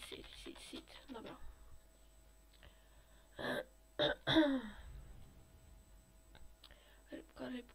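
Several throaty coughs and throat-clearing bursts from a character in the video game Raft, short and close, scattered among quieter rustles and brief vocal sounds.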